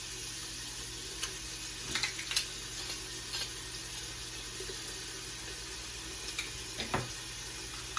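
Garlic sizzles in a hot pan on medium heat, a constant frying hiss with a few brief scraping clinks of stirring, close and steady with no talking.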